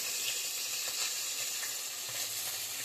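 Cumin and chilli sizzle in hot oil beside a fried fish head for a fish head curry, a loud, steady hiss and crackle with no voices over it.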